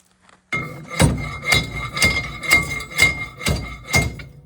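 Quartz gold ore from hard rock crushed in a mortar with a pestle: about eight heavy, evenly spaced pounding strikes roughly every half second, each a dull thud with a gritty, ringing edge, close and loud.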